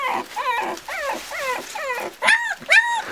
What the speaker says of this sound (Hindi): भौंकने लग गए हैं।